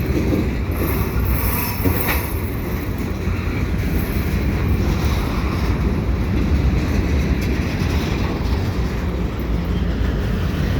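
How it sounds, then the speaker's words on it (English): A CN freight train led by an XGMTX locomotive and an old GP9RM rolls past in the Old Port of Montreal, a loud, steady, close rumble with rail clatter sustained the whole time. "And here's the locomotives. XGMTX locomotive. And the old GP9RM."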